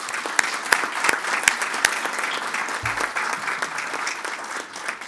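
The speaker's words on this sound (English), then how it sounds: "let's give Rosemary another round of applause" An audience applauds guest speaker Rosemary at an annual general meeting, a steady spread of clapping with a few sharper, closer claps standing out.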